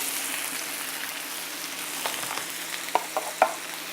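Meat and vegetables cooking on a Gemmove Multi High Grill, a soft steady sizzle with faint crackles and a few small pops near the end, no talk.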